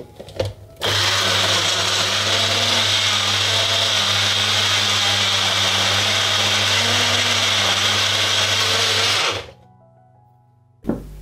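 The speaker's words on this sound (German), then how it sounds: "Ich benutze den Mixer auch zum ersten Mal jetzt gerade." Countertop blender mixing an aloe vera and kiwi smoothie, a loud steady whirring roar that starts abruptly, runs about eight seconds at constant pitch, then cuts off with a brief clunk.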